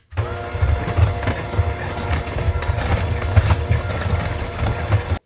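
An electric mixer beats eggs, added one at a time, into red velvet cake batter, giving a steady, loud, low whirring churn with a rhythmic chop that runs throughout, unbroken and with no one talking.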